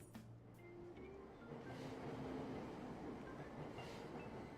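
A Persona 5 subway train rumbles along with rhythmic clickety-clack of wheels and faint squeals, a steady mid-distance roar that swells slightly toward the middle and holds.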